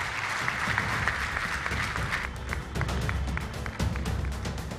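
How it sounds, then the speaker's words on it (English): Crowd applause at Rwanda Mining Week, a dense, sustained roar of many hands clapping, close and loud, with a few sharper individual claps standing out near the end. "Another round of applause, please."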